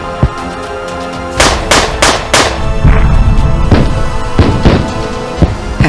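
Gunfire at the Battle of Princeton: a loud volley of sharp musket shots in quick bursts, followed by heavier rumbling blasts and scattered further reports.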